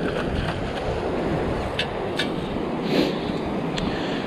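Wind gusts across an open beach on Padre Island, Texas, in January, a steady broadband roar buffeting the microphone with brief swells, heard alone with no voices.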